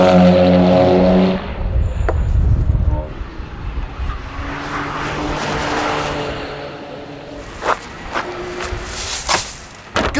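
Race cars testing at the Nürburgring during the Nürburgring Endurance Series pass in the distance, engines rising and fading over a busy outdoor background, with louder bursts near the start and end.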